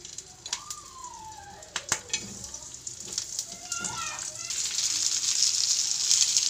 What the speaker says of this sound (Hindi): अब हम यहाँ मिर्च को ऐड कर देंगे।